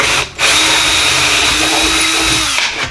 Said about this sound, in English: Now I can just drill my holes in there.